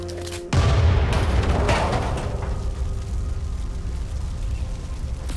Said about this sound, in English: Heavens! It's an explosion!